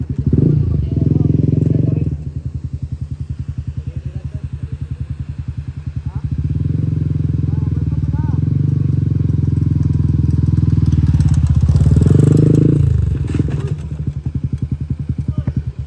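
Motorcycle engine running steadily up close at a riverside camping spot, a loud low throbbing drone that dips briefly and then swells, with occasional clatter and voices talking over it.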